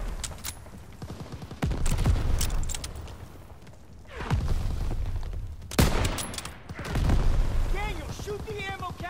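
Gunfire in Call of Duty as ammo caches get shot, bursts of shots and booms rising in loud waves over several seconds, with a voice talking in between.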